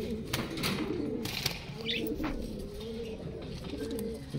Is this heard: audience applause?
no